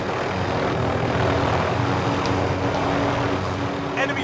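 A helicopter in a multiplayer shooter game drones steadily throughout, a continuous engine and rotor roar with a faint tonal hum, holding a constant level with a few faint clicks near the end.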